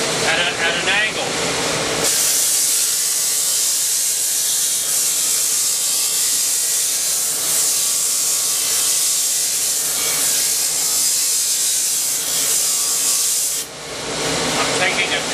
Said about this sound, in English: First thing I do is I grind across this distal end of the orthotic at an angle.